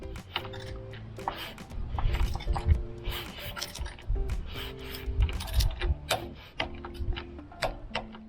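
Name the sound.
tightening bolt with 6mm Allen key on torque wrench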